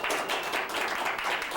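Brief audience applause at a poetry reading in a café, a steady patter of clapping filling the room throughout.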